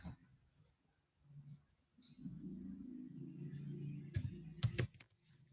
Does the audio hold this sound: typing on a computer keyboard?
yes